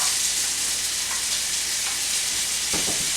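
Half a cup of onions fries in melted butter in a pan, a steady, dense hiss running throughout with a few faint clicks of stirring near the end.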